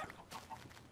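Minecraft chickens cluck in a few short, soft, quick calls within under a second, faint and alone.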